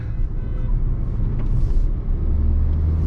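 Hyundai Creta facelift 2024 diesel car cruising in third gear, a steady low engine and road rumble heard from inside the cabin, continuous and fairly loud with no talk.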